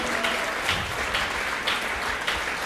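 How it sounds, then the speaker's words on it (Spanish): A church congregation claps steadily and fairly loudly throughout, a dense continuous wash of applause during a Spanish-language sermon, with no clear voice over it. "fuertes palmas al Dios de la gloria."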